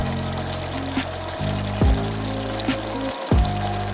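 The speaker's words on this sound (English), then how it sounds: "So I'm gonna add just a little bit more water to this, cover it up, let it cook for about 10 more minutes" Water pours into a pot of curried chicken with potatoes and carrots, a close, steady gurgling stream marked by a few brief splashes and pauses as it goes in.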